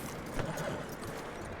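Horse hooves clip-clop at a steady walk in the snowy Red Dead Redemption 2 world, a soft, continuous patter under faint wind and game ambience, with no talk.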